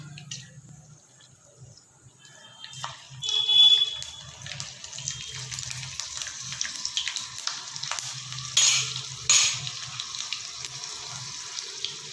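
Curry leaves and garlic crackle and sizzle in hot oil for tempering, with scattered pops and a steady hiss, moderately close, with occasional clinks of a utensil.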